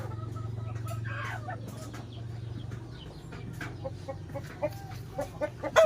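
Chickens on a chicken farm cluck and murmur steadily, with a low continuous hum underneath and a few louder, sharper clucks near the end.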